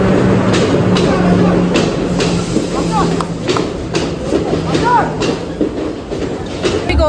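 A train rumbles steadily at a railway platform on a trip to Horton Plains, with voices chatting nearby and birds chirping over the continuous rolling noise.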